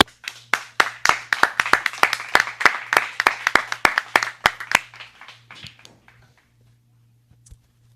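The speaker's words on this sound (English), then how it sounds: "Everybody that can hear me, give a big round of applause" A small audience at a snooker tournament in a billiards club gives a round of applause, a dozen or so distinct, close hand claps that thin out and stop, leaving near silence.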